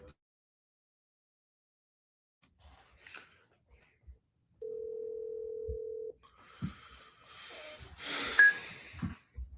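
A phone dialing a call: a steady ringback tone sounds for about a second and a half, preceded by faint handling noises and followed by rustling and a brief voice.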